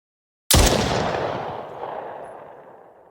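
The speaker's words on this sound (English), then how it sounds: "Instantly this game blew up my eardrums with the loudest gunshot sound known to man." A single, extremely loud gunshot from a low-rated sci-fi zombie first-person shooter game on Steam cracks out of silence, then leaves a long, gradually fading reverberant tail.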